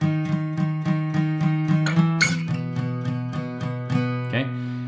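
An electric guitar plays a riff of repeated short octave notes in a steady, even rhythm, ringing clearly with a few accented strums.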